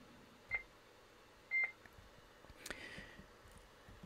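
Key beeps from an Icom ID-880H amateur radio while setting up scan mode: two short, clear electronic tones, the second held slightly longer, followed by soft button and handling clicks in a quiet room.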